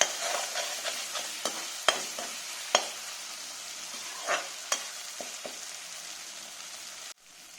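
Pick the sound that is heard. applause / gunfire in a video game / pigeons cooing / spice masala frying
spice masala frying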